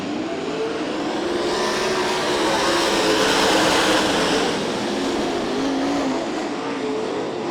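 Ten sprint cars roar around the oval at 34 Raceway in a heat race, a loud, continuous wall of engine noise that swells and fades slightly as the pack passes.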